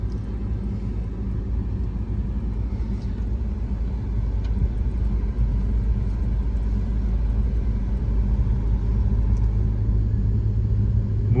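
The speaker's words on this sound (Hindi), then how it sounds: "हैवी ट्रैफिक चली रही है" Heavy road traffic crossing the Rathoa Haryam bridge in Mirpur, Azad Kashmir, a steady loud low rumble of engines and tyres that runs without a break throughout, with no talk over it.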